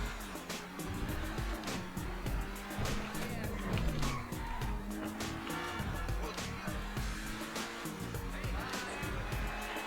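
Modified Infernus Classic sports car in a video game, its engine revving hard as it accelerates down a straight, with tire squeals and skids mixed into a busy, continuous roar.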